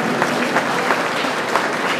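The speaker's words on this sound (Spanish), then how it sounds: "Para ustedes un fuerte aplauso porque se lo merecen por estar compartiendo esta noche." Strong audience applause at a centenary celebration for the Gran Hotel Victoria, loud dense clapping filling the room steadily throughout, with no talk over it.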